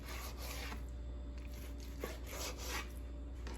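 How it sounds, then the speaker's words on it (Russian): A knife saws through salmon, cutting it into portion pieces with a steady, close rasping and scraping texture that runs continuously with soft rhythmic pulses, no voices. "режем на порционные куски"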